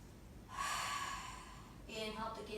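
A deep, slow inhaling breath during a yoga class, taken in through the nose as a breathy rush, close and fairly soft, followed by a shorter second breath.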